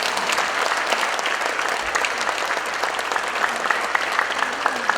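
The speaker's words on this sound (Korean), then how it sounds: "우리 한번 하나님께 박수 드리겠습니다." A church congregation at a prayer retreat applauds, a thick, steady roar of many clapping hands that holds at a constant level throughout.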